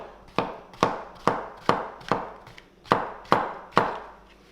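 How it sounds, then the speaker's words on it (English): Mushrooms being cut into thin slices with a knife, eight evenly spaced crisp chops on a board in a steady rhythm, close and clear, with no talk. "for starters I just want to cut the mushrooms up into thin slices"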